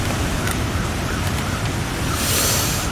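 Strong wind roars in a cold, snowy wilderness in the survival game The Long Dark, a loud continuous rushing gust that swells slightly toward the end, with no talk.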